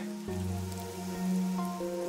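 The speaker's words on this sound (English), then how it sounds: "The rain, it never stops." Soft, steady rain patter with a low droning tone underneath in Master Detective Archives: Rain Code, continuous and even throughout.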